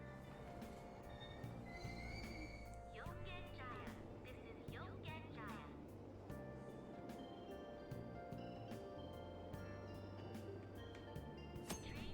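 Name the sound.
subway train in Persona 5 Royal, video game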